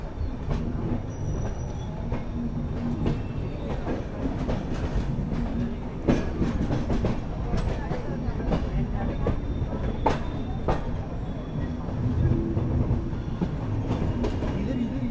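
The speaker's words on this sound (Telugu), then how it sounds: "చూడండి ఇంకో లోకల్ ట్రైన్ మన కూడా వెళ్ళిపోతుంది" Loud, steady rumble and rhythmic clatter of a moving express train heard from inside on a Konkan Railway journey near Diva Junction, with a local train running alongside, sharp clacks and brief metallic squeals throughout.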